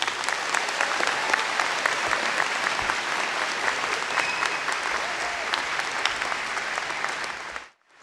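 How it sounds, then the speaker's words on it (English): A graduation audience applauds in a sustained, even wash of clapping that carries on for several seconds before cutting off abruptly. "please join me in a warm round of applause once again for the PACE class of"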